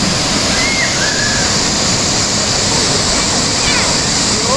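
Cachoeira do Jajá, a waterfall on a reddish river near Morretes, Paraná, roars as a loud, constant broadband rush of falling water that fills the whole clip without a break.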